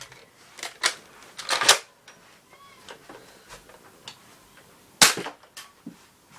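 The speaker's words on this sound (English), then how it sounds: "First I'm going to shoot it as the pistol and see how accurate it is." A Nerf Recon CS6 blaster fired in pistol mode gives sharp plasticky pops, with two or three close shots clustered early and another burst about two-thirds through, separated by quieter mechanical clicks.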